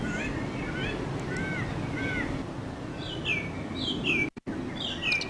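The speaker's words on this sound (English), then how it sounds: "Fresh buds and aphids attract common native birds like the blue-tit and wren." Songbirds such as blue tit and wren sing at an abandoned tennis court site, clear repeated chirps and whistled phrases over a low outdoor background, with a brief dropout near the end.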